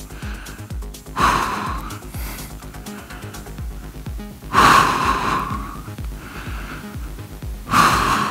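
Heavy, effortful breaths from someone exercising during a beginner cardio workout, three loud gasping inhales spaced a few seconds apart with quieter breathing between, close and alone.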